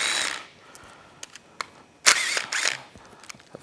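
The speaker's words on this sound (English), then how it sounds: "I love using these little impact tools to pull things apart" A small impact tool pulling apart a Yamaha YZF R6 motorcycle engine teardown, giving a couple of short, loud buzzing bursts between light clicks and clanks of loosened parts.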